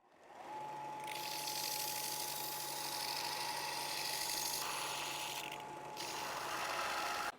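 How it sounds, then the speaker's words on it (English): A belt sander running 60 grit shapes stainless steel tubing for a custom chopper frame, a steady loud grinding whine with a continuous abrasive hiss that holds for several seconds, with no talking. "I'm going to start with some 60 grit on the belt sander and just start moving these edges down and shape this thing"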